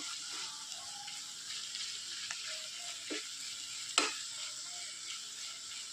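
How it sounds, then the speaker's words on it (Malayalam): Quiet, steady sizzle of snake gourd cooking in a pan, with a few scraping stirs and a sharp clack of a utensil against the pan. "നമുക്ക് വീണ്ടും ഒന്ന് ഇളക്കി യോജിപ്പിക്കാം"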